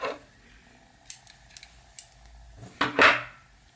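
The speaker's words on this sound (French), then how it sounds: "Maille en l'air et on coupe." Scissors snip crochet yarn during work on a crochet mandala, a few faint metallic clicks followed by one louder, close cutting sound near the end, with quiet surroundings.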